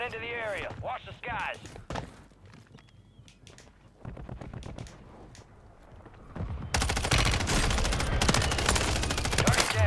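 Automatic fire from a no-recoil gun in Call of Duty MW3 on Rebirth Island, with scattered shots and game sounds early, then a dense, loud sustained burst toward the end while a voice talks over it.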